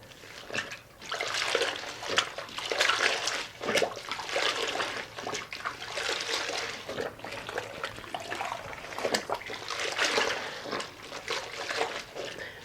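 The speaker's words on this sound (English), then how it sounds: "rinsing the mop out in this solution right here between rounds" A mop is rinsed and swished in a bucket of Moxie pine cleaner solution, with continuous close watery sloshing, dripping and trickling, periodic splashy surges, and no talking.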